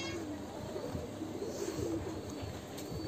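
Fancy pigeons coo softly in an open farm setting, low repeated throaty calls blending into a quiet steady background, with no one speaking.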